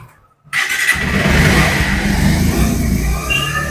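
A 2021 Bajaj Pulsar 125 BS6 motorcycle starts with a short starter whirr after a brief silence, then settles into a loud, close, steady idle with slight revving, no talking over it.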